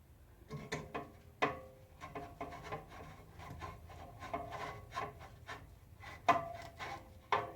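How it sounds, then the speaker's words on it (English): A muffler being slid onto a car exhaust pipe gives a series of close scraping, rubbing metal clicks and knocks in irregular bursts, quiet, with no voices. "we're just going to slide that muffler right on"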